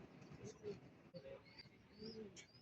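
Racing pigeons cooing at a loft in Plaridel, Bulacan, soft low throaty coos repeating near the listener, with faint chirps and a voice talking quietly alongside.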